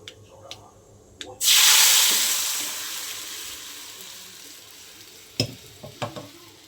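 Yogurt and gram flour kadhi mixture poured into a hot tempering of mustard seeds, cumin and curry leaves, bursting into a loud hissing sizzle that slowly dies down, followed by spoon knocks while stirring.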